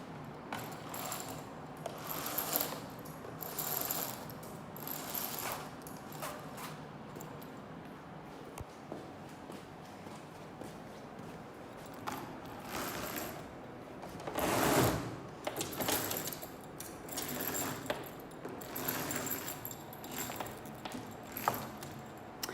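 Grey roller blinds in a rental unit being raised, giving a soft mechanical rattle and ratcheting clatter of the chain and roller that runs on and off for about twenty seconds, close by, with a louder burst midway.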